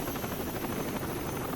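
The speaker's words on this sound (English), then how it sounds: "there's the Dolphin. I think that's the same helicopter from Deus Ex." A Dolphin helicopter in the video game Rainbow Six: Vegas 2 gives a steady, close rotor drone with rapid blade chop, continuous and alone.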